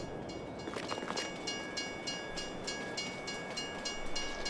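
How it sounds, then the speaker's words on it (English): Decorative train passing in the video game Farming Simulator 22, a faint steady rolling rumble with rhythmic wheel clicks on the rails, heard at a distance. "here's the train, but this train is only decorative"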